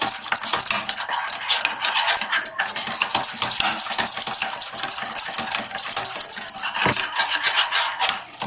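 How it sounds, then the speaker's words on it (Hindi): Sugar and oil beaten together in a bowl for tutti frutti fruit cake batter, giving a steady, close, continuous clatter and scraping of utensil against the bowl with no talking. "अब इसमें मैं 3 चम्मच जो है वो ऑयल के डालूंगी और अच्छी तरह से इसको भी हम 1 से 2 सेकंड के लिए बस बीट करेंगे"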